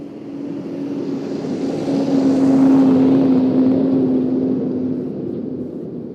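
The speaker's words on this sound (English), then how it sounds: "About to hear the fuel truck come back by." A fuel truck at an airport rolls past, its engine drone swelling to a peak and then fading as it goes by, with a steady hum throughout and no voices.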